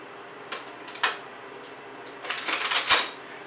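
Metal wrenches for car repair being handled, giving a few isolated close clinks followed by a quick cluster of rattling metallic taps and jingles.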